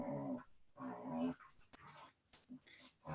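Dogs growling and whimpering indoors at home during a remote board of education meeting, several low rumbling growls in bursts with thin whines in between, fairly faint and with no talk over them.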